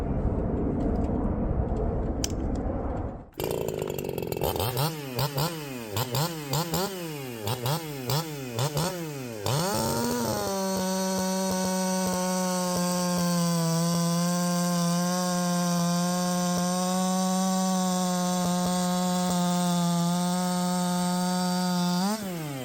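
Freshly built Echo 4910 chainsaws being test-run with fat carburetor tuning, loud and close, first revving up and down in repeated surges, then settling into a sustained high, steady engine whine.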